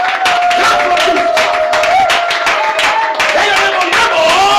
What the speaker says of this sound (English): Clap for the Lord. Clap for Jesus.